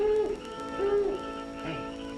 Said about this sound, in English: It's a mockingbird.